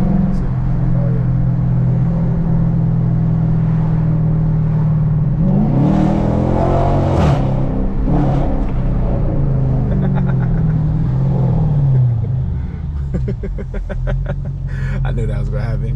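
A Chrysler 300 Hemi with a straight pipe and 275 tires rumbles loudly from inside the car, then revs up hard with a rising roar before easing off, and speech can be heard near the end.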